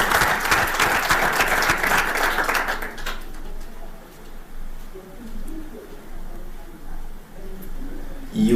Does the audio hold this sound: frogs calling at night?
no